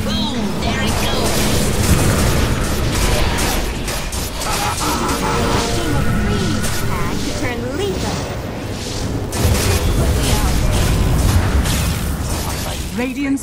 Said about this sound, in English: Dire's main tower has fallen. Boom! There it goes!